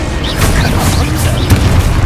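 In the video game Hogwarts Legacy, the Confringo blasting spell explodes with a loud, dense, rumbling boom that fills the whole stretch. Faint voice-like sounds are mixed into the roar.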